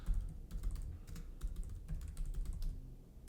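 Steady typing on a computer keyboard, a continuous stream of close, distinct key clicks with a few louder taps over a low background hum.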